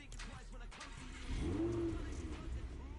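A car engine in Fortnite revs up and holds a rising, steady drone, loud and close, with no talk over it.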